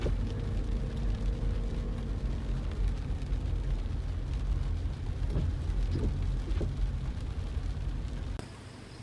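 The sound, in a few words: rain falling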